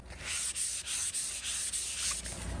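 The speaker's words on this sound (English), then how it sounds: "come back with a 220 grit and just kind of hand sand" Hand sanding a tacky table finish with 220-grit sandpaper, a steady close scratchy rubbing in continuous back-and-forth strokes with brief dips between passes, heard alone.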